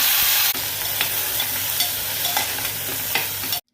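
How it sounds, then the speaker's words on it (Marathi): Crushed garlic and fenugreek seeds hit hot oil with a loud, constant close sizzle, dotted with small pops and spatters, which cuts off abruptly at the end. "फोडणी थोडंसं तेल ठेचून घेतलेले लसूण मेथी दाणे थोडे टाकते"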